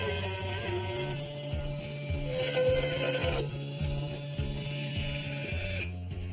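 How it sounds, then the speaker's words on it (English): A Dremel rotary tool cuts into the frame of a human-powered boat, giving a steady, close, high-pitched whine with a buzzing mechanical drone underneath that shifts slightly in pitch, dropping away near the end. "Give us the Dremel and do it here."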